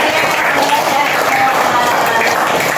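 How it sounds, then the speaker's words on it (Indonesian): Schoolchildren clapping together in a classroom, a dense, steady patter of many small hands that fills the whole moment at close range, loud and continuous with no talk over it. "Tepuk tangan dong."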